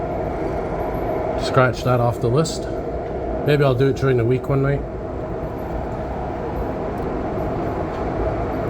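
Steady interior rumble and hum of an REM light metro train in service at night on the last run from Brossard Station, continuous throughout while someone talks close over it for a few seconds.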